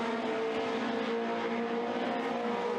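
Formula 2 race cars come through to take the flag at a racing event, a steady loud engine drone with a sustained whine and no distinct single pass.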